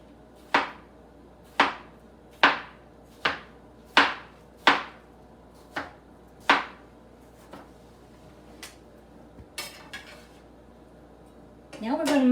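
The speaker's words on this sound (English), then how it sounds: "So we're going to slice up the cucumbers as thin as we can." A knife slices thin cucumber rounds on a cutting board for a summer salad, with about eight sharp, evenly spaced chops that come close and clear. Softer taps and a brief clatter follow near the end.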